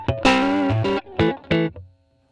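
Electric guitar played through a Line 6 Helix small tweed amp model, a few bright clean-to-crunchy strummed chords in uneven bursts with a short decay at the end, heard alone with no talking.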